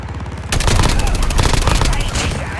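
An MG42 machine gun fires in Call of Duty Mobile, loud, rapid and sustained automatic bursts that start abruptly and keep rattling to the end.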